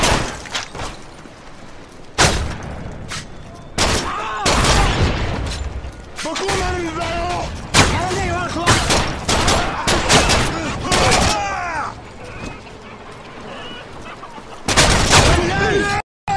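Bursts of gunfire and explosive booms in Modern Warfare 3 Survival on the Seatown map, loud rapid volleys that come and go, with players shouting and talking between the shots.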